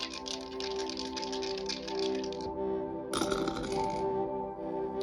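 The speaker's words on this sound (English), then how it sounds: "Let's see what the Astro Dice has." Astro dice rattle and clatter in a quick burst of small, sharp clicks, close and fairly quiet, followed by a second tumbling roll. No one talks.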